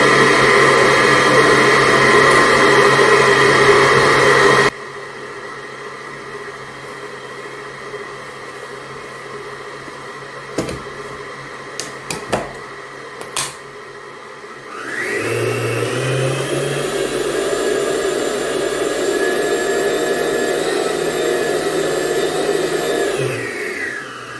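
An electric mixer whirs steadily while beating batter for oat, cinnamon, raisin and nut cookies. It runs alone at a loud, even level, cuts out, leaves a quiet gap with a few light clicks, then starts up again.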